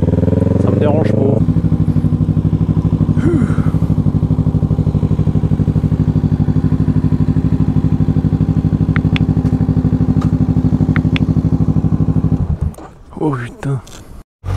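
A Kawasaki Z900 motorcycle engine drones loudly and steadily at close range, then cuts off near the end, followed by clattering handling sounds.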